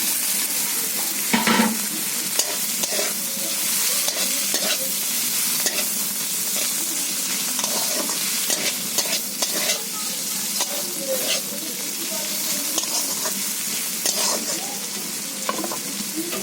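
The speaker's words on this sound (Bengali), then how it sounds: "ভেজে রাখা আলু বেগুনটা দিয়ে দিচ্ছি বন্ধুরা" Fried potatoes and eggplant tossed and stirred in a hot pan, a loud continuous sizzle with repeated scraping of the spatula throughout.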